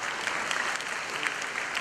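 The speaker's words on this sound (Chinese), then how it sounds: "让我们再次用热烈的掌声感谢中国舞队的出色表演。" Audience applause following a Chinese dance team's performance at a school cultural day, a dense, even wash of many hands clapping at moderate distance.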